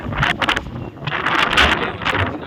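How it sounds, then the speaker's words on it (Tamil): Strong gusts of sea wind at Eden Beach, Pondicherry, buffeting the microphone, rumbling and roaring unevenly throughout. "சூப்பராக காற்றுலாம் வந்து அடிக்குது பயங்கரமாக"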